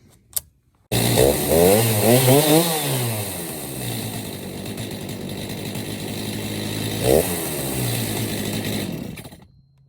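A chainsaw fitted with a new bar and chain starts up loud and close, revving up and down in several bursts before settling into a steady roaring idle, then gives one more brief rev and cuts off.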